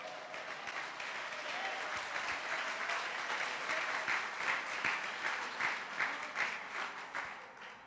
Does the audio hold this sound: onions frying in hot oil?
no